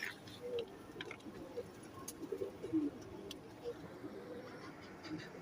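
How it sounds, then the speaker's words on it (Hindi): Johnson neel dumbe pigeon, a Sialkoti breed, cooing in a series of close, low throaty calls over faint background noise, with a few short clicks and chirps scattered between. "ये वही जॉनसन नील दुम्बे कबूतर है।"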